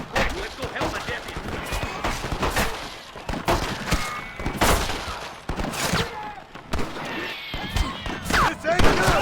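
Gunfire in the Red Dead Redemption video game, with repeated volleys of shots and thuds layered into a dense Western firefight, loud and close throughout, with voices shouting over parts of the shooting.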